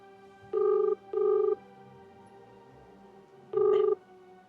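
A telephone rings in three electronic bursts, two close together and then a third after a pause, with no talk, as a number is redialed.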